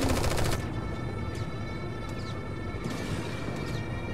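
In Strain Tactics, a rapid burst of gunfire gives way to scattered single shots and sharp cracks over a constant battle ambience.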